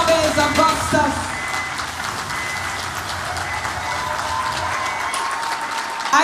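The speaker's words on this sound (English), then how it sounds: "Give a round of applause to my brother, Chavez Augustus." Sustained applause from a crowd at a political party's executive launch event in Trinidad, broad and steady throughout with faint voices mixed in.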